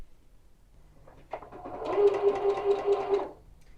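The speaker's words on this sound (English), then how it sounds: "So I'm sewing down 1/8 of an inch from this seam line" A sewing machine runs one short, steady stitching burst along a tie jacket collar, close and fairly loud, after a brief click and quiet start.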